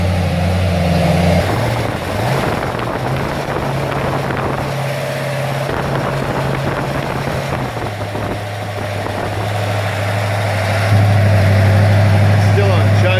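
A Ford XC Fairmont 351 V8 with a Thermoquad carburettor runs steadily on choke, a loud, close, even idle that rises slightly near the end, with someone talking over it.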